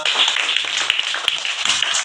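A group of schoolchildren clap their hands in a classroom: scattered, uneven claps in a short burst with no talk.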